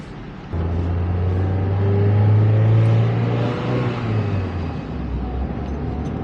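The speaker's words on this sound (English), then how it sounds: "let's go ahead and give this a test drive and see how the new shifter feels" An NB2 Mazda Miata with a rebuilt shifter and windows down pulls away on a test drive, the engine note rising and then falling through a gear change, heard loud from inside the car.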